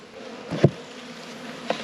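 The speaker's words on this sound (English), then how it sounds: "I'm just going to pop these bees back in" Honey bees hum softly around an open hive box during an inspection, a steady low drone with two brief louder buzzes as single bees pass close to the microphone.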